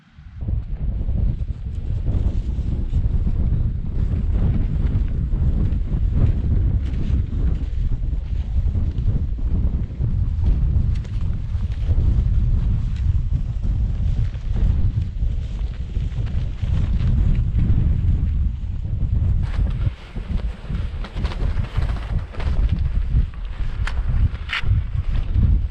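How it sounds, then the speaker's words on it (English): Strong north to northwest wind on a mountain ridge near Caisteal Abhail, loud constant buffeting and rumbling against the microphone for the whole stretch, gusting without pause. "The wind is north to northwest"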